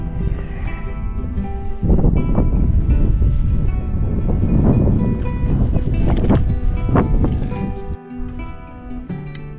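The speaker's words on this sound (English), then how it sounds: "Windy up here. Very windy up here." Strong wind on Stone Man Mountain, Connecticut, buffets the microphone in loud, continuous rumbling gusts, with a brief lull near the end before the roar returns.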